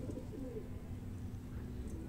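A breeder pigeon cooing softly at close range, a short low murmuring coo over a constant background hum.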